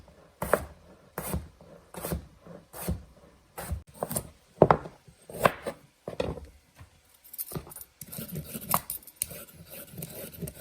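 A knife dices peeled potatoes into bite-sized pieces on a cutting board, with sharp, close chops coming in quick irregular bursts separated by brief pauses.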